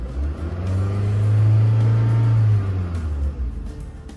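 A 2010 Honda City engine with an unstable idle is revved once, close and loud, swelling into a deep roar for about two seconds and then dropping back toward idle.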